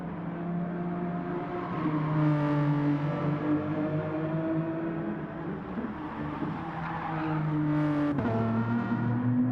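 A pack of one-make race cars circuits the Nürburgring GP track in a racing video game. Several engines drone and shift pitch together, holding a steady loud wail. There is an upshift near the middle and another near the end, and nobody speaks.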